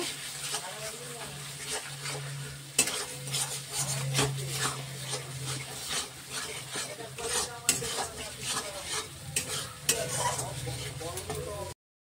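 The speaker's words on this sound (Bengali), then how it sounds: "ভালো করে যতক্ষণ না তেল না বেরোবে কষতে হবে।" Dhoka masala being stir-fried in oil, with repeated scraping and clinking of a spoon against the pan over a low sizzle, in an uneven rhythm of strokes at close range.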